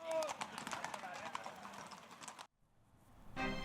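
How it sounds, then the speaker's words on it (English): Horses' hooves clip-clopping on a hard surface at a festival parade with over 100 horses and riders, a dense rapid clatter that cuts out abruptly before a brief return. "More than 100 horses and their riders participated in this year's event."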